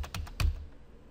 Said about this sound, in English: Here, I'm just going to type in micro.